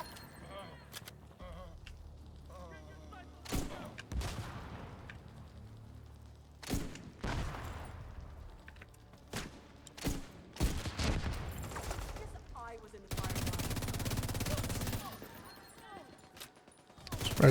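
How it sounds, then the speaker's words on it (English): Sharp gunshots ring out in a video game, some as isolated cracks and others as quick volleys, ending in a sustained stretch of rapid fire, with a voice talking faintly beneath. "Here they'll start shooting at them"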